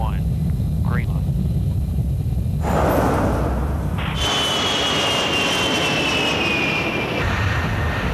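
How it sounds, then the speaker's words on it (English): A C-141 military transport aircraft flies over during an airdrop, its broad engine roar steady and loud throughout, rising with a whining jet tone partway through, while a voice talks over it. "The C-141s arrive, aging aircraft, experienced crews."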